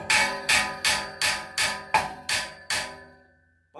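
Seven evenly spaced, ringing hammer taps strike wood on a workbench to mark it, each one sharp and close with a short decaying tail, then the tapping stops.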